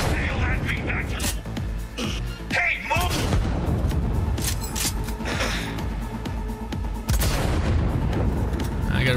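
Rapid SMG fire rattles in bursts during a Cyberpunk 2077 firefight, loud and close, with booming impacts and someone talking and exclaiming over the shooting.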